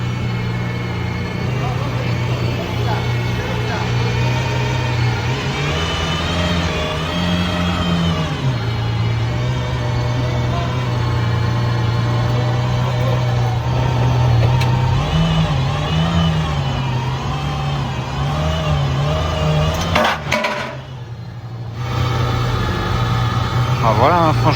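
An Aston Martin Valkyrie hypercar manoeuvres slowly through town, its engine idling with a deep steady drone and blipping in short revs; people talk throughout, and the engine dips briefly near the end.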